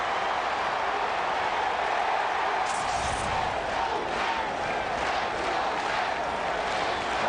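A baseball stadium crowd at a 2008 Cardinals vs Mets game roars in a continuous wash of cheering, distant and steady, with a brief swell partway through.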